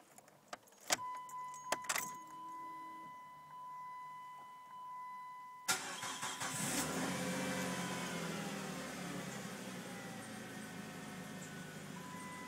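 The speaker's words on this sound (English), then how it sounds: "Now it's time for the Intrepid to get its cold start for the day." Keys jingle and a warning chime sounds, then the 2.7-litre engine of a 2001 Dodge Intrepid cranks and catches on a cold start, revving high before settling into a steady idle.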